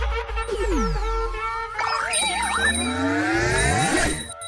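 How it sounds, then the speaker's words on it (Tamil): A bright electronic chime sounds amid busy, layered tones with sliding pitches, like a doorbell ringing over a cluttered musical background. "எமன் தான்டா காலிங் பெல் அடிக்கிறான்"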